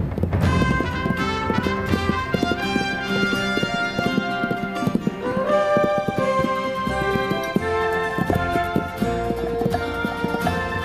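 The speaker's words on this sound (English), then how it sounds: "Spurred by heat and hunger, wild horses converge on the cool green heights" Wild horses in the highlands of southern Montana move along with busy clip-clopping hooves, partly masked by prominent music playing over them.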